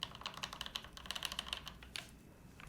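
Rapid, steady typing on an Ayleen TKL mechanical keyboard with a four-screw mount, giving bright, close clacks in a continuous rhythm that tapers off near the end, with no voices.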